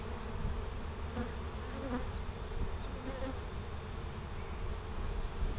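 Honey bees swarm and buzz around an opened hive full of burr comb, a dense, steady drone that fills the whole stretch close by, with no talking.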